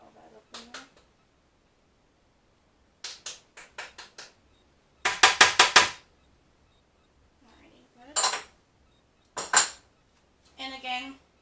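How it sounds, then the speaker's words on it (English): Wire whisk stirring dry flour, baking soda and salt in a bowl, giving bursts of quick, close scraping clicks against the sides, separated by pauses. "I like to use a not a spatula, a wire whisk, so that way everything is completely blended"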